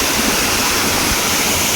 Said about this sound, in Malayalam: ഒരു കുട്ടി വെള്ളച്ചാട്ടം